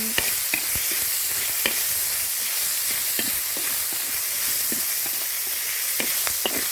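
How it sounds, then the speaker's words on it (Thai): Pork belly stir-fries in a hot pan with a steady, dense sizzle and hiss, broken by sharp metallic clinks and scrapes of a spatula against the pan at irregular intervals, close up and with no one talking. "ผัดหมูสามชั้นให้หอม"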